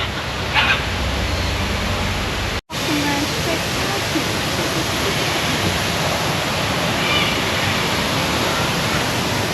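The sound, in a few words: big waterfall at Singapore Bird Paradise wetlands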